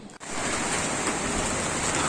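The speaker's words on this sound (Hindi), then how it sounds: "ये बहुत प्यारी सी बारिश हो रही है बॉम्बे में।" Steady, dense hiss of rain falling continuously in Mumbai, fairly close and even, with no voices.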